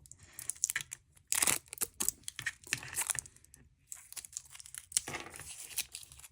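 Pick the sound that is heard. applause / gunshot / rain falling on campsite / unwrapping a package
unwrapping a package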